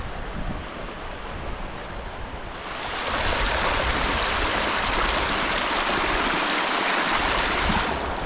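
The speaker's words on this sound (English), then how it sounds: "in fast flowing water like here" Fast-flowing stream water at a wilderness river crossing in the Scottish Highlands, a loud, steady broadband rush heard close up that swells even louder partway through, with no voices.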